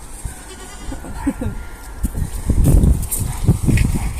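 Goats bleat in short, loud, close cries while being herded outdoors in a garden with berry bushes, with footsteps and rustling underneath and bleats repeating toward the end.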